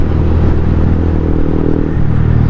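A 2017 Honda CBR150R fitted with an Akrapovic M1 exhaust muffler idles and revs close by, a loud, steady, throaty engine drone with no talk.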